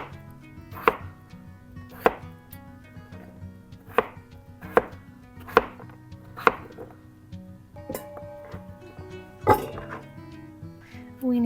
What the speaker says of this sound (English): chop the potatoes into bite-sized pieces